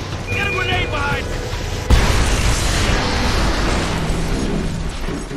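A grenade goes off in the Homefront video game with a sudden heavy boom partway through, followed by a rumbling blast tail and debris, over combat noise and voices talking.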